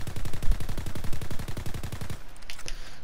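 Rapid automatic fire from a Nambu Type 2 submachine gun in Call of Duty WWII's Attack of the Undead DLC, a steady burst of evenly spaced shots lasting about two seconds before cutting off, followed by a few faint clinks and game sounds.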